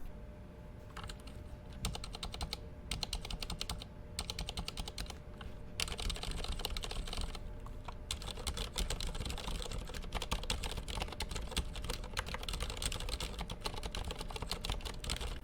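Rapid, steady typing on an IQUNIX mechanical keyboard with Cherry Silent Red (Cherry Pink) switches, a soft, muffled clatter of dense keystrokes continuing close up with brief pauses.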